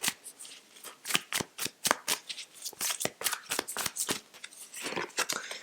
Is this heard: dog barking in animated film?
no